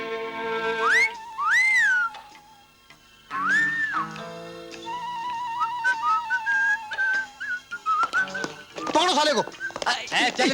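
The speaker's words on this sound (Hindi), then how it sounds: "अरे लेकिन क्यों बे सीटी क्यों मारा था हाँ?" A person whistles in a Hindi movie scene, with several rising and falling whistled notes and tones heard clearly through the first half, mixed with background music and other voices.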